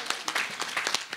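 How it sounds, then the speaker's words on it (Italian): A small outdoor crowd in a mountain town square claps briefly for a women's football team, a short burst of individual claps that sound close and scattered. "Un forte applauso, grazie."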